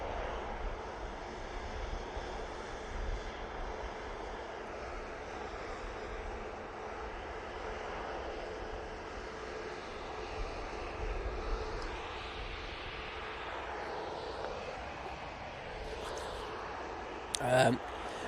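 Propeller aircraft at Manchester Airport produce a steady distant engine drone with a soft propeller hum, fairly faint throughout, ending with a brief sharp click.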